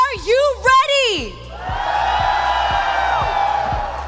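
A live esports crowd in Malaysia at a mobile gaming finals playoff roars and cheers in a loud, sustained wash after an announcer's shouted call, with a steady thumping beat pulsing underneath.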